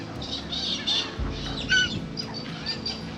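Large birds squawk and honk close by a caravan at a free camp on the Nullarbor, with several bursts of calls over a few seconds and a low thump partway through.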